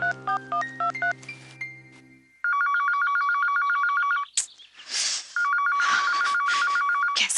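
A telephone rings in a home in a Hindi TV drama, starting with a short melodic chime and then two long bursts of a bright, repeating electronic trill separated by a brief noisy gap.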